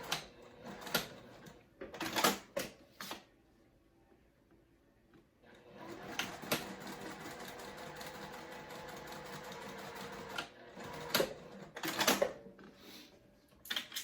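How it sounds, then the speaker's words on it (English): A sewing machine stitches down the centre of a fabric zip-and-go crossbody bag in several bursts of rapid mechanical whirring, the longest running steadily for a few seconds, separated by pauses and small handling clicks. "So I just folded it over and I sew down the center"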